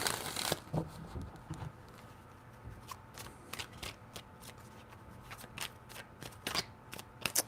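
Tarot cards being shuffled by hand, with repeated crisp riffling bursts and sharp flicks and taps at irregular intervals, close and fairly quiet.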